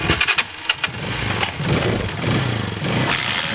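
A motorcycle engine starts and runs nearby, loud and rough, with uneven sputtering revs that settle into a steady idle.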